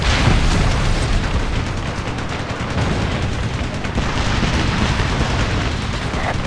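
Explosions and gunfire in the Ace Combat video game, a dense, loud, continuous roar of blasts and rumbling booms under heavy combat with no gaps.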